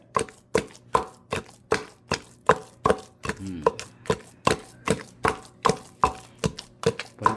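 Shrimp for Lao larb is chopped on a board with rapid, evenly spaced knife thuds, about two per second, loud and close, with no talk.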